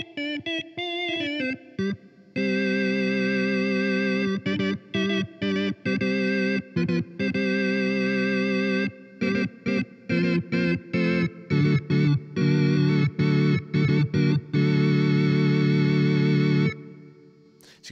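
Martinic's Elka Panther synth plugin plays sustained chorded tones through a reverb room-tone effect, with the notes repeatedly cut into stuttering choppy bursts and no talking.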